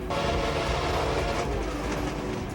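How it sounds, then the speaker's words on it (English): A train rolls past on rails at close range, a steady loud rumble with rail clatter and some higher screeching tones throughout, with no voices. "Don't mess with the train."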